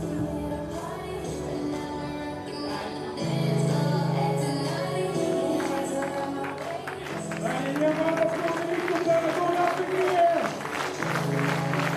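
Padel tournament crowd at a Swedish Masters match clapping in rhythm, steady even claps under music and arena noise, moderately distant and sustained.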